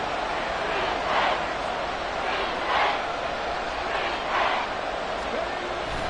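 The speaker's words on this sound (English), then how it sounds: "The Arrowhead crowd in full roar." Stadium crowd at Arrowhead roaring through an American football video game with the Titans on offense: a dense, steady wall of cheering that swells in three or four waves, with no voices standing out.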